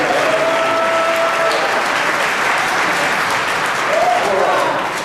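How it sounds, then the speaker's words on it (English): Campus event crowd at UW Milwaukee gives itself a loud, steady round of applause, dense clapping throughout with faint voices mixed in. "Give yourselves a round of applause."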